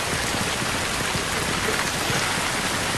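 Rain falls steadily in a scene from a Korean comedy film, a dense, even hiss of downpour that stays constant throughout with no breaks and no voices.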